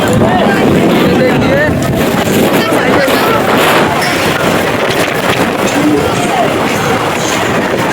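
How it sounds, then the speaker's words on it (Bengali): Strong storm wind roars continuously with gusty, blustery noise, loud and close, at Sealdah station during a power outage, while voices murmur faintly underneath. "তো তোমরা আগে ঝড়ের আওয়াজটা দেখো কিরকম আওয়াজ করছে হাওয়ার"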